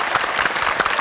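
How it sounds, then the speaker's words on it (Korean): A television studio audience applauds at a wedding-themed talk show, producing dense, steady clapping that is loud and close throughout the brief moment. "박수 한번 주세요"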